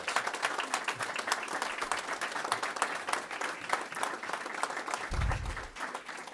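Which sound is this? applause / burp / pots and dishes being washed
applause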